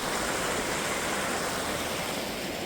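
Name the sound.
water flowing beside a walking path in Bakewell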